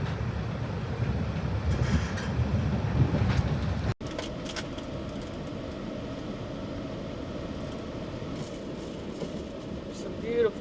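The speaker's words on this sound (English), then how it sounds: "The train is moving." A moving train in Switzerland heard from on board: constant low rumble and rattling, with a brief sharp break partway through before the steady noise resumes.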